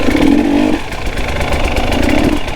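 A KTM 300 XC two-stroke dirt bike engine runs close and loud, a smooth buzzing drone that dips slightly in the middle and then steadies again.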